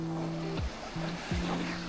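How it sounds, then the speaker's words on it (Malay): Strong wind gusts buffet the microphone on a seaside fishing spot at Tambak Klebang, a steady rushing roar with low booming thumps, loud and close, with no talk. "angin dah mula kuat jadi kita tak boleh nak mancing"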